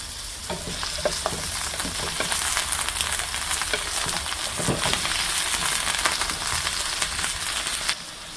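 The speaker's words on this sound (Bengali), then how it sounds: "আমি ফুলকপির ডাঁটিগুলো আগে দিচ্ছি, কারণ এগুলো বেশি একটু শক্ত হয়, এই জন্য আগে দিচ্ছি। তেলটা দিলাম, এটা কিছুক্ষণ ফ্রাই করে নেব" Tough cauliflower stalks sizzling in hot oil in a pan before the florets are added, a steady dense crackle with occasional stirring scrapes, close and continuous with no talking.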